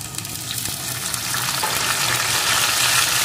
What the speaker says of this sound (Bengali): এগুলো এর সাথে একটু ভেজে নেব